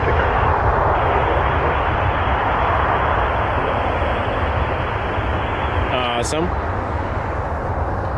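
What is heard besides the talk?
Air Canada Airbus A321 taking off at Toronto Pearson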